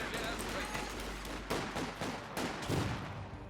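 Vickers machine gun fire from a video game battle, sharp repeated bursts amid a dense, continuous din of gunfire and explosions, with a voice talking over it.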